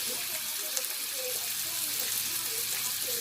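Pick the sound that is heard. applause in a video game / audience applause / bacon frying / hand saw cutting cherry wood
bacon frying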